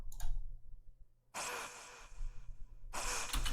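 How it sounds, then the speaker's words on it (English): A recorded vocal breath used in a remix of a song: a soft breathy inhale-exhale sigh, repeated in two airy bursts over faint low musical tones. "I recorded this little vocal breath here"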